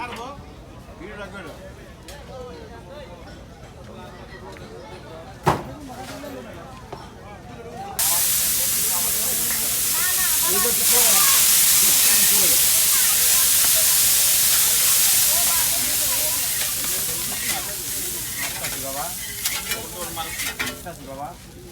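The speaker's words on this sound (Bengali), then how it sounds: "এখন মাছ ভাজা হবে" Hilsa fish frying in hot oil: a loud, steady hiss and sizzle swells up and carries on close by, with clatters of utensils and people talking throughout.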